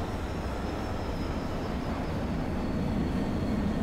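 A steady, loud broadband roar of an airplane in the zombie game Dead Island, rumbling evenly throughout with a faint high whine on top and no talk.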